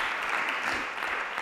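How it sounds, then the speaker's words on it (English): A church congregation claps during a sermon. The sound is a steady, moderately faint wash of many hands clapping together, with no talk over it. "Somebody clap your hands for that."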